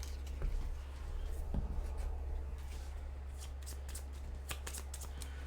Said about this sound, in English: it's just shuffling to the event deck